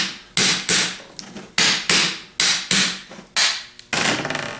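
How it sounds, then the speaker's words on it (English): Hammer tapping the back half of a 4G alternator side to side during a rebuild: about eight sharp, close metallic knocks at an uneven, roughly half-second pace, each ringing briefly, no talk. "hold on to the back half with one hand, and I'm just tapping from side to side"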